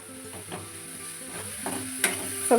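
Grated coconut and jaggery are stirred in a hot pan for carrot modaka, with a steady soft sizzle, repeated scraping strokes and a couple of sharper metallic clinks near the end, and no talking.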